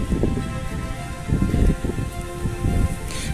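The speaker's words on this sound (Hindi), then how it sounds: "चारों तरफ जोरदार बारिश अभी लगा रहा है।" Steady heavy rain pours over a rooftop, a dense continuous hiss with low rumbling gusts, no voices, close and loud throughout.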